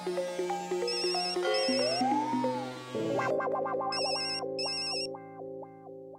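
A mobile phone ringtone plays a bright electronic melody of stepped, repeating notes with a short burst of high chirps, loud and close with no talk over it.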